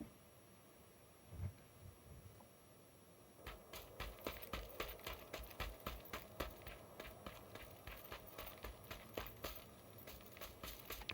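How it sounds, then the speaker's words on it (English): Another player's footsteps in a video game, a steady run of soft thudding steps that starts after a few quiet seconds and keeps up a walking rhythm, moderately close. "Pretty sure I'm hearing footsteps."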